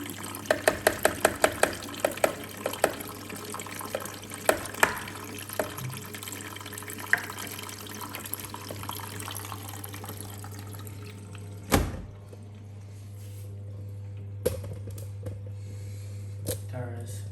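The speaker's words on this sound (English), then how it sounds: "And that's the water starting to come in now." Water filling the drum of a Beko WTG Lingerie 30 washing machine, a steady close rushing flow with scattered clicks and knocks, fading briefly near the end before resuming; no voice over it.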